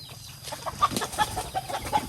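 Chickens and ducks in a pen cluck and chirp in short, scattered calls nearby, a busy poultry chatter with soft background noise.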